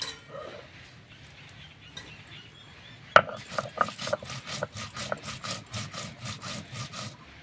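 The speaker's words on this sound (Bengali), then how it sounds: "এবার সব কিছু একসঙ্গে আমি বেটে নিচ্ছি" Dried red chillies, green chillies and cumin being ground by hand into a paste: after a quiet start, close rhythmic scraping and rubbing strokes repeat steadily.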